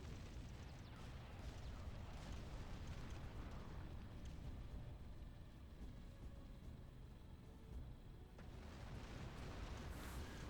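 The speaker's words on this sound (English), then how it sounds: "I'm just gonna sort of carpet bomb this area with shells" Artillery shells pounding an area in a Ground Control bombardment, a dense, continuous wash of distant rumbling blasts and crackling bursts with no clear gaps, fairly faint and unbroken.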